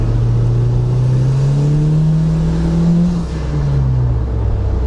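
Turbocharged Datsun wagon with a GT3582 turbo, engine loud and close as it revs, a rising whine and rumble that dips briefly and builds again.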